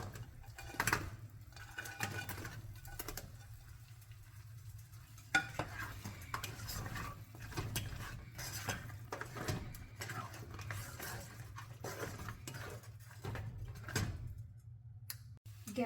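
Idli pieces stirred into Manchurian batter in a pan, a continuous close scraping and stirring with soft sizzling under it and occasional louder knocks of the spoon against the pan.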